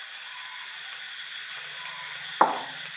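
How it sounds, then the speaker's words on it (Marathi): Hot oil hissing softly in a pan, then a sudden splash and sizzle burst as onion bhaji batter drops in, close and brief. "तेल गरम झाले आपलं त्याला कड आलं आणि आता मी कांद्या भजी टाकून घेते"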